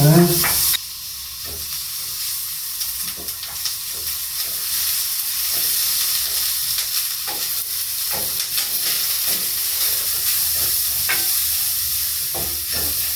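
Minced garlic frying in 20 cc of sesame oil in a preheated pot: a loud burst at the start, then a steady close sizzle and hiss with scattered stirring clicks, no talking.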